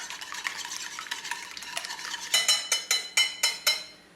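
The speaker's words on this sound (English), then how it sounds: "Just mix that well." Prepared mustard is stirred into a mixture in a bowl, first with quieter irregular scraping, then a run of six rhythmic, distinct scraping strokes close by.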